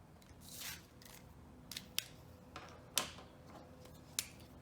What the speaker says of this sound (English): So I'm going to cut this part of the pie in half to get my quarter notes.